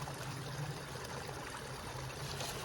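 Rainy-season stream water fed by drainage pipes on a swale-and-berm landscape, a steady, faint rushing and trickling flow with no pauses.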